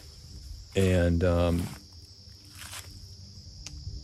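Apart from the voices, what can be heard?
crickets chirping at a campsite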